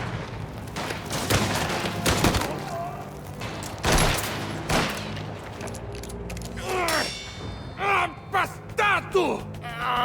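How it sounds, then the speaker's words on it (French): A thrown explosive goes off amid dense in-game gunfire in the crime game Mafia, with sharp bursts and booms over a steady battle din, followed by clanging metallic hits and ringing tones near the end. "Je lance un explosif."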